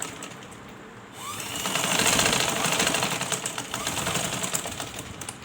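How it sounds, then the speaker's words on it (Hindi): A sewing machine stitches a back neck seam, its needle hammering in a fast steady mechanical rattle that starts after a brief pause and runs continuously, close and fairly loud, with no talking. "इधर भी हम इसी तरह दोबारा वापस सिलाई लगा लेते हैं।"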